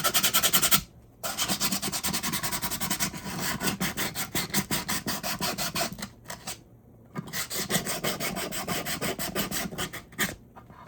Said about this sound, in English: get my heavy duty sandpaper, and I'm going to take it off that way